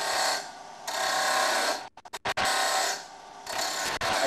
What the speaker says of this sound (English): Turn the lathe on and proceed with the next cut.